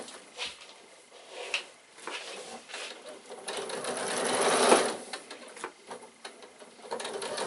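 A sewing machine stitches over the piping seam of a fabric bag, running in steady close-up bursts that swell louder toward the middle before easing into lighter, uneven stitching.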